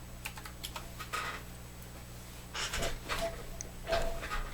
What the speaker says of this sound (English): I was typing bot commands at somebody.